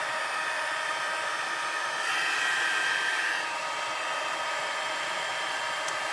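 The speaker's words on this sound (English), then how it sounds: "So we are done with the heat tool, done with the embossing powder" Heat tool blowing hot air to melt embossing powder, a steady, hissing airflow whoosh with a brief louder surge in the middle, close and continuous.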